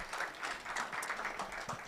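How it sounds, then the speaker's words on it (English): Brief, fairly quiet applause from an audience, a steady patter of many hands clapping at a distance. "A round of applause, please."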